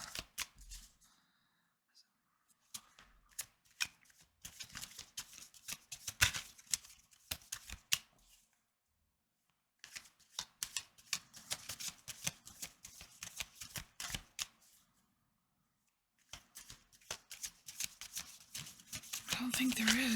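A deck of advice cards is shuffled in repeated riffling bursts, crisp and close, broken by short pauses before a card is pulled.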